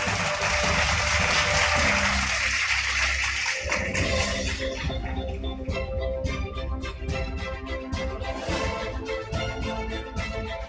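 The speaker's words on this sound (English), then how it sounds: "Round of applause." Audience applause at a live finance talk event: a wash of broadband noise that gives way to a run of distinct claps, steady and moderately loud to the end.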